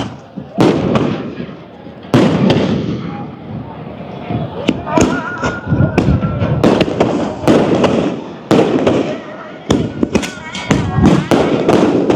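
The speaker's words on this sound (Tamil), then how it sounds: "அம்பாள் வருகின்ற பொழுது அப்படியே மாறி மலை பொழிகின்றது போல வான வேடிக்கைகள்" Fireworks burst repeatedly at a Hindu temple festival on Nainativu island as the goddess's procession arrives, with loud, close cracks and booms in rapid irregular volleys over a continuous festive din, and voices are heard among the crowd noise.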